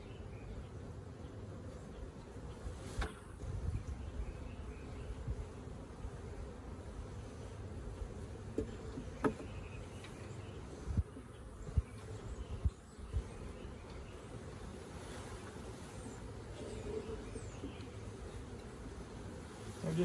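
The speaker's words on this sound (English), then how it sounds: "Lots of bees." Inside an open beehive with a queen cell, a crowded honey bee colony gives off a low, continuous hum, faint and close, broken by a few soft knocks and handling noises, with no talk.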